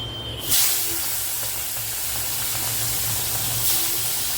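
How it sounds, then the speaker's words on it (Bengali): Small tangra and chuno fish frying in hot oil, a steady loud hiss and sizzle throughout, with sharper spitting flares at the start and near the end. "তো চলো মাছগুলো আগে ভাজা হয়ে যাক।"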